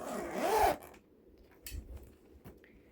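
The zipper on the side bag compartment of a Hoover Elite upright vacuum cleaner is pulled in one quick, close zipping rasp, then a few soft handling clicks follow.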